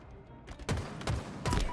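Gunfire in a Halo match, three heavy bursts of shots arriving in quick succession at close range, each with a sharp attack and short decay.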